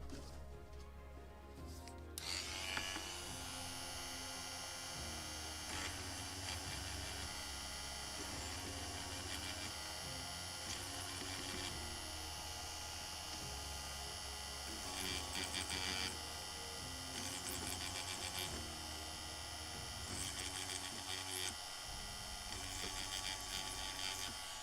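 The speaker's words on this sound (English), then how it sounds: "I believe I have to drill it one more time, what I did for the previous nails" A small drill runs continuously while boring a hole for nails in the rudder of a Model Shipways Gunboat Philadelphia (1776) kit, a steady high whine with faint tonal hum, starting after a brief handling noise and staying close and even.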